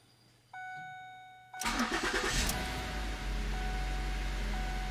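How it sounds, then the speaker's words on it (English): A Ford Edge engine cranks with a whirring starter, then catches and settles into a steady, low idle nearby. "I'm gonna start the engine so we can confirm the customer's complaint."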